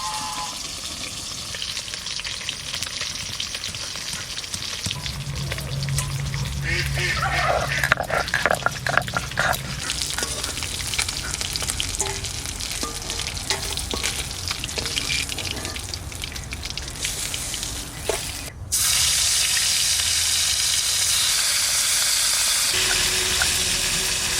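Ginger and cumin sizzle and crackle in hot oil, the frying hiss swelling and settling with occasional stirring clatter, close and continuous.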